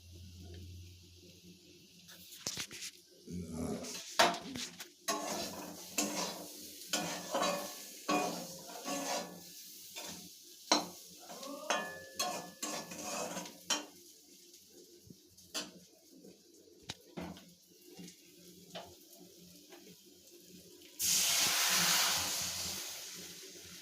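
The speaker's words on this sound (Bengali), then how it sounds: "এরপরে জল ঢেলে দেওয়া হবে।" Scattered scrapes and clinks of stirring egg curry masala in a frying pan give way near the end to a sudden loud hiss as water hits the hot masala.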